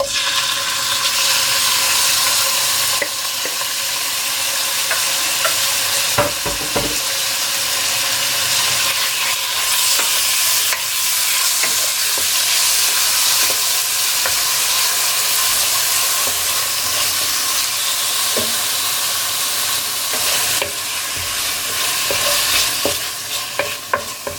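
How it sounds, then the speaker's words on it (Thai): Chicken breast stir-frying in a hot pan, a loud continuous sizzle and hiss with intermittent scraping and stirring clatter, no talking. "เดี๋ยวจะผัดไก่ก่อนนะจ้าทุกคนนี่จะเป็นอกไก่นะคะ"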